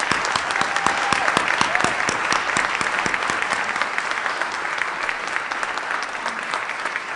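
Audience at a community college tolerance forum gives a warm, sustained round of applause, with steady dense clapping filling the room at an even level throughout and no talking.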